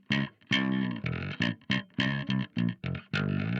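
Bass guitar high frequencies, saturated and slightly compressed, giving a gritty, buzzy tone on a short rhythmic phrase of clipped notes separated by brief gaps, played alone.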